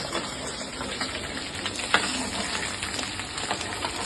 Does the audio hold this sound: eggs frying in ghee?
yes